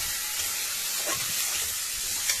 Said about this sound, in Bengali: এবার দিয়ে দেবো হচ্ছে ভেজে রাখা ডিমগুলো, দিয়ে একটু নাড়াচাড়া করে জিনিসটাকে